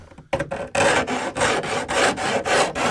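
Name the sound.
filing sharp edges of metal van roof panel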